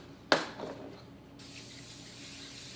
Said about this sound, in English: we're going to spray our cookie sheet